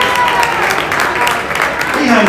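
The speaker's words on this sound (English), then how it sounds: "Let's give him a round of applause." At an annual goat show, a crowd breaks into a round of applause, a dense and steady patter of many hands clapping at fairly close range, with a voice speaking over the clapping.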